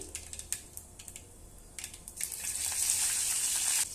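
Cumin seeds and curry leaves drop into hot oil for a carrot palya; scattered crackles and pops build into a loud, steady, close sizzle.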